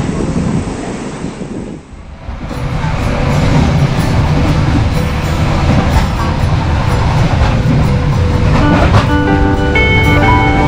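The KA Rajabasa passenger train rolls steadily along the rails with a dense, loud rumble and rattling carriage noise, plus wind buffeting. A brief dip early on gives way to sustained clatter and faint squealing tones.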